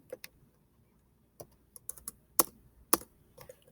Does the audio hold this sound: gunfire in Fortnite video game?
no